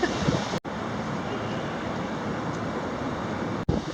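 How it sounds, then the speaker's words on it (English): Strong wind by a lake roars as a constant loud rush of broadband noise buffeting the microphone, cut off briefly twice. "the wind is insane"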